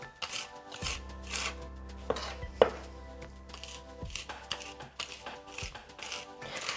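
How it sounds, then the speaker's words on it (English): A knife scrapes and chops repeatedly on a wooden board, mincing herbs with salt for salsa verde, quick rasping strokes with occasional sharper knocks, close by and without talking. "using the side of a knife, just work it into the board"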